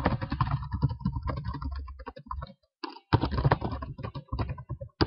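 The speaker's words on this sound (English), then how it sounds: "I cannot type today" Rapid typing on a computer keyboard, dense clattering keystrokes up close with one brief pause midway, then a fresh burst of keys, with no voices.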